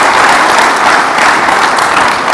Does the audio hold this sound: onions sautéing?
no